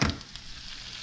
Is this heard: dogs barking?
no